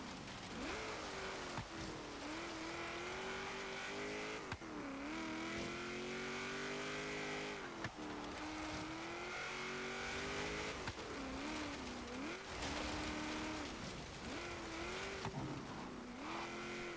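A 1972 Ford Falcon XA GT-HO engine roars in a Forza Horizon autocross run, revs climbing and dropping repeatedly through gear changes and corners, with tire squeal, loud and continuous.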